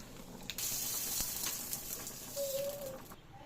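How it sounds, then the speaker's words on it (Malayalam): Mustard seeds and curry leaves spluttering in hot oil for a curry, a faint sizzle with scattered small pops and crackles over a quiet background. "കടുക് പൊട്ടിക്കുമ്പോൾ കരിയാപ്പിലൊക്കെ ഇട്ട് കടുക് പൊട്ടിച്ച് കറിയിലേക്ക് നമ്മൾ ചേർക്കണം"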